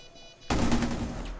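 Gunfire in a first-person shooter during a bomb-planting round: a sudden loud, close burst of shots cuts in after a quiet moment, then rings out and fades.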